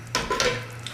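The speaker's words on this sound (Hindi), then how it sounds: "अब मैं थोड़ा चम्मच हिला दूँगा ताकि हमारे चावल वो अच्छी तरह मिक्स हो जाए" A spoon stirs rice through mixed vegetable pulao in a cooking pot over a medium flame, giving a few brief scraping and rustling strokes, soft and close, with no talk.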